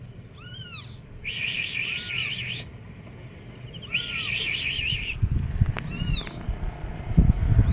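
A cat meows several times in bursts, high and clear, with rustling and bumping noises building toward the end.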